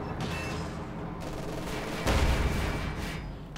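Gunfire in the real-time strategy game Company of Heroes 2, a dense continuous fusillade of small-arms and heavier shots over a steady battle rumble, with a louder burst midway.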